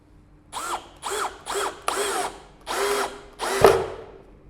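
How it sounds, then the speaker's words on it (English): A Bosch GSB 185 LI cordless impact drill with a torque bit drives screws in six short, loud bursts, each a whirring spin that rises and cuts off, with brief pauses between them. "So, we have a torque bit here and then we are taking some screws and try to do this."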